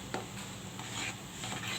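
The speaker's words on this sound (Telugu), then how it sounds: "ఒకసారి కలిపుకుందాం." A spoon stirs boiling sambar in a pot over a high flame: faint scraping and soft bubbling under a steady low hiss, with one light knock near the start.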